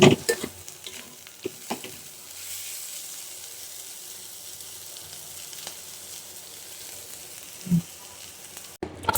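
Vegetables fry in a pan, making a soft continuous sizzle broken by a few sharp scraping knocks of a spoon stirring against the pan, heard close with no talking.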